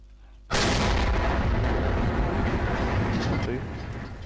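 Sudden loud boom of artillery or gunfire in the war strategy game Behind Enemy Lines 2, hitting hard at once and rolling on as a sustained rumble; someone talks over it.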